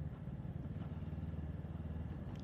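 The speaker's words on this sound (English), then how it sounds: "siguro nadidinig nyo yung exhaust niya" FKM Falcon X400 parallel-twin motorcycle idling with a steady, low throbbing exhaust rumble, close by and continuous, with no talk.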